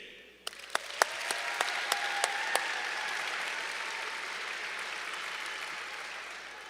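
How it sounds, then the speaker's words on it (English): At an athletics awards ceremony, a few distinct claps ring out first, then swell into a broad wash of audience applause that holds steady, fairly soft and roomy. "let's give a specific round of applause to Carson Webb and Steve Brooks"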